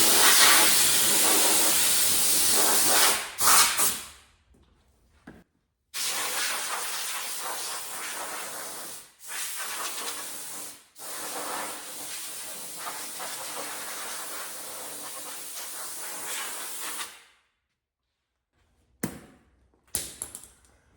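Compressed air blows across freshly sanded parts from a 1978 Chevy truck, loud broadband hissing bursts lasting several seconds each with short pauses between, a long continuous blast in the middle, close up with no talking.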